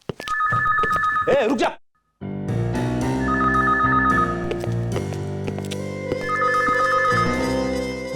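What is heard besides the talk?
telephone ringing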